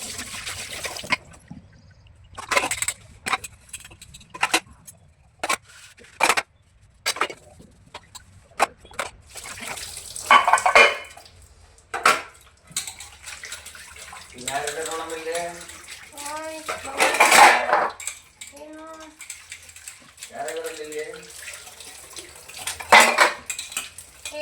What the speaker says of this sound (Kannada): ಇವಾಗ ಪಟ್ಪಟ ಅಂತ ಪಾತ್ರೆ ಎಲ್ಲ ತೊಳೆದ್ಬಿಡೋಣ.